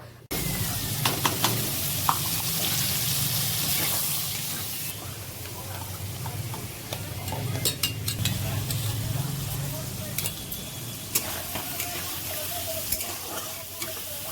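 Potatoes frying with ginger, green chilli and tomato in a home kitchen pan, a steady sizzle and crackle with occasional stirring clinks close by.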